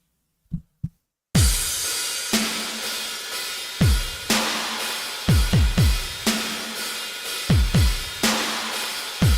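Layered electronic drum beat in a witch house style, with punchy distorted kicks, snares and a steady hiss of hi-hats repeating in loud, regular bars after a couple of isolated hits and a brief silence.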